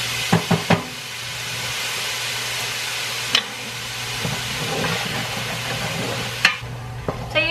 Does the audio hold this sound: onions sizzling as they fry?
yes